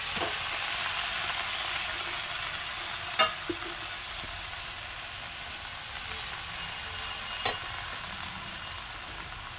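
Jute greens hit hot oil in a pan, with salt, turmeric and green chili, giving a steady, faint sizzle with a few sharp clinks of a utensil against the pan.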